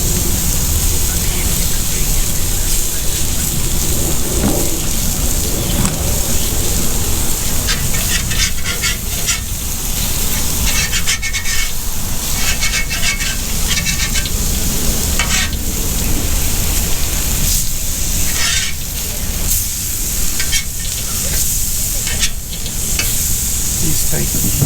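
Food sizzles on the grill pan of a Blackstone Tailgater combo grill, a loud continuous hissing fry running throughout with occasional scraping and brief talk.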